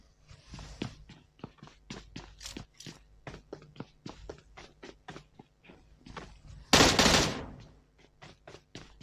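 Rapid gunfire in the mobile battle royale game PUBG Mobile, a fast, evenly spaced string of crisp shots, then a louder, denser burst near the end, with no talk over it.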